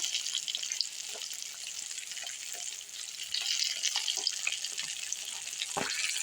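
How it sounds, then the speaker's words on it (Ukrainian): Steady hissing sizzle of crucian carp frying in a pan, with small pops and crackles scattered throughout, no voices. "Карасики смажаться."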